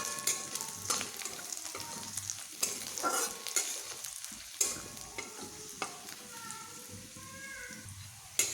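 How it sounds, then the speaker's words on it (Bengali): Garlic and nigella seeds frying in hot oil while being stirred, a close crackling sizzle punctuated by repeated scraping and tapping strokes of a spatula against the pan, with no speech. "এবার আমি এই ফোড়নগুলোকে বেশ ভালোভাবে ভেজে নেব এইভাবে"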